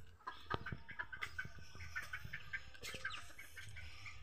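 Kate bantam chickens on a simple Indonesian farm, clucking and calling in repeated short bursts, fairly close, with rooster and hen sounds overlapping throughout.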